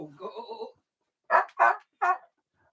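An aging dog gives three sharp, loud barks at a steady spacing, preceded by a short stretch of softer vocal sound.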